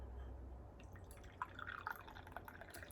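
Tea poured from a large ten-cup pot into a cup, faint trickling and splashing drips in a quiet room, with a few brighter liquid plinks near the end.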